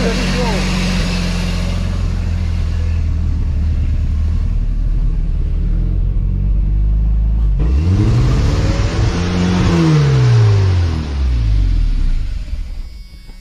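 A Chevy S10 engine with a stuck throttle roars loudly at full revs, with a deep rumble that surges, dips and climbs again in sweeping pitch swings, while voices talk over it.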